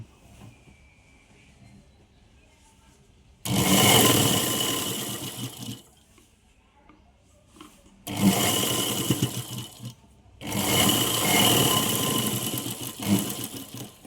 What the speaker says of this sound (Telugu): ఇప్పుడు ఒక స్టిచ్చింగ్ వేయాలి